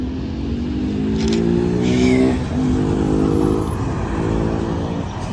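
An intercity coach on the Itajubá to Belo Horizonte line pulling away from the Pouso Alegre bus terminal, its engine droning loud and close with rising, shifting tones as it accelerates, with a faint high whine above.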